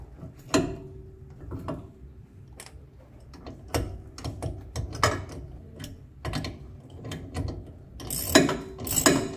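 Rapid ratchet-wrench clicks in short bursts as a bolt is tightened on the control arm of a 1999 Corsa 1.6, with metallic clinks and pauses between, close and moderately loud with no talking.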